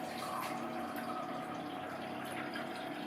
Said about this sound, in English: I'm going to get a glass of water.